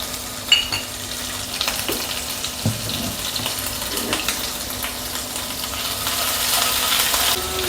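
Ginger garlic paste sizzling in oil in a frying pan for soya vegetable fried rice, a steady close hiss with occasional stirring scrapes and knocks, growing slightly louder toward the end.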